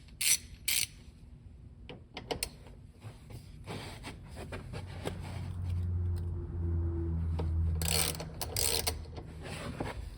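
A ratchet turns a screw at the steering wheel of a Ford Explorer police interceptor during airbag and clock spring work: scattered clicks and taps, then a steady mechanical grinding rub that builds in the second half, close and fairly quiet, with no talk.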